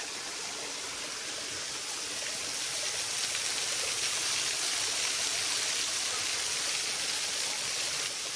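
A waterfall and stream on Kentucky mountain property give a steady, broad rushing of water that swells slightly partway through, with no voices.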